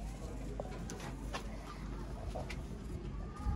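Sialkoti pigeons coo softly in a breeder's loft, low and steady, with faint bird calls and background noise and no speech.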